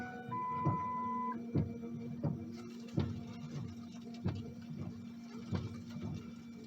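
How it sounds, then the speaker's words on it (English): Windshield wipers on a truck sweep back and forth in a steady repeating rhythm of soft thumps while a washer pump hums and sprays water, close and fairly quiet with no talking. "Windshield wipers are going. I'm going to try to spray her now."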